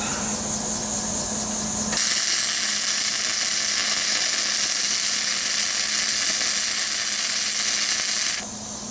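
Flux core wire welding on a Jeep Wrangler YJ frame, a loud harsh crackling buzz with spatter that cuts in after about two seconds and holds steady until it stops near the end, over a quieter background hum.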